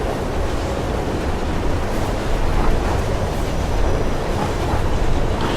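Train ride in the video game Mirror's Edge: a steady, loud roar of rushing wind and rolling rail noise, continuous and dense with no breaks, as though riding on top of a moving train.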